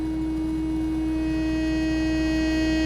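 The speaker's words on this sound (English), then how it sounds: "we get a cleaned up sine wave again" A clean, steady sine tone runs through a Boss DS-2 distortion pedal set to minimum distortion with low input, a pure continuous hum with faint harmonics and no variation.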